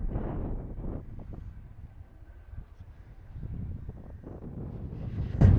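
Strong wind buffets the microphone at an Arctic Circle viewpoint in Sweden, gusting in uneven rumbling surges that swell, ease and build again, with no talking.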